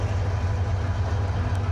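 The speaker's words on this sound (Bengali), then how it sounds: "কমলাপুর রেলওয়ে স্টেশনে 1 নম্বর প্ল্যাটফর্ম থেকে ছেড়ে দিল কিশোরগঞ্জগামী 11 সুন্দর এক্সপ্রেস" The Kishoreganj-bound 11 Sundar Express pulls out of platform 1 at Kamalapur railway station, a deep continuous rumble of the train rolling past, loud and close.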